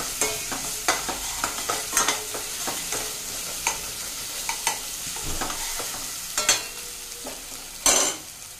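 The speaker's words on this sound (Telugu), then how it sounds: "అలాగే అల్లం వెల్లుల్లి పేస్ట్ కూడా వేసేస్తున్నాను. ఇప్పుడు మిక్స్ చేద్దాం." Ginger garlic paste stirred in a pan with cinnamon, cardamom and cloves, close crackling sizzle broken by repeated sharp spoon scrapes and taps, louder strokes near the end, no talk.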